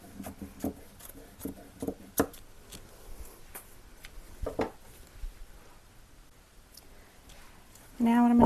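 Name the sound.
cutting a drop cloth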